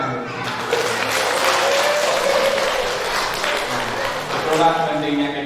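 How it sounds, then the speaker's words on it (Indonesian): Audience applause fills a motivational talk in Cimahi, steady dense clapping sustained for about five seconds, loud and close with a brief swell near the end. "Tepuk tangan dulu."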